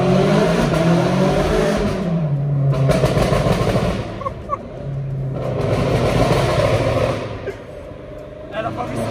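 BMW M8 with a straight-pipe exhaust and over 800 horsepower accelerating hard through a tunnel, loud reverberant engine roar rising in pitch through two pulls with sharp crackles between, voices reacting over it.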